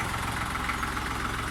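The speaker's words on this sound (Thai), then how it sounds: "เสียงรถแท็กเตอร์" A tractor engine idles with a steady low chugging pulse, continuous and unbroken.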